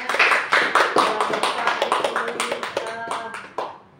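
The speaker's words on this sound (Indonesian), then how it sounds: "Sekali lagi tepuk tanganlah untuk Bu Suryani." Applause from a small crowd, a steady patter of many hands clapping that thins out and fades toward the end.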